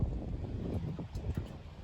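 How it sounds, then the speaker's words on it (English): Gusty wind buffets the microphone outdoors on a fall day by the water, a low, rumbling, uneven roar that swells and fades across a couple of seconds with no voices. "It's a little windy"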